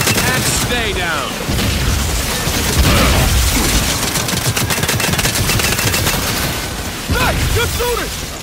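Horde-mode gunfire in Gears 5, rapid automatic bursts and heavy shots with booming impacts, loud and nearly continuous, with voices calling out between shots.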